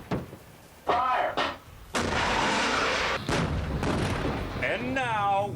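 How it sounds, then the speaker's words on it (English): Bradley fighting vehicles firing their guns during a firepower demonstration at Fort Knox, several loud booming shots with heavy rumbling decay, a crowd-and-announcer ambience and short voice fragments between the blasts. "Next, the Bradley fighting machines demonstrate their firepower."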